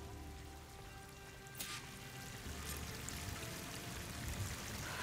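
A waterfall in Horizon Forbidden West, at a flooded village, gives a steady, fairly faint rush of falling and splashing water, with a brief brighter splash near the middle.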